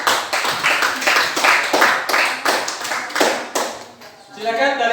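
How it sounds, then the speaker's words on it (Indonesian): A classroom group claps for Group 2 after their presentation, with steady, brisk applause close by that thins out toward the end. "kita tepuk tangan untuk kelompok 2"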